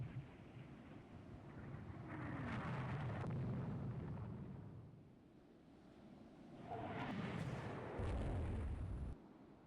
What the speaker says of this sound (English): Tochi is hit by a missile.